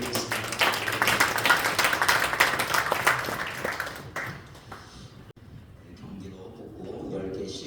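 Congregation applause at a New Year worship gathering of regional pastors in a church, a dense burst of clapping that fades out halfway, followed by quieter room sound and faint talk.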